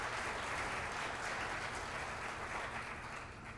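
Audience applause at a high school choir spring concert, a continuous dense wash of clapping from a large crowd, steady and fairly distant without pause.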